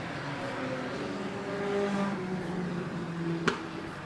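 Race cars running side by side for third and fourth place in an amateur enduro, engines droning steadily at a distance with shifting pitch, plus a sharp brief clack near the end.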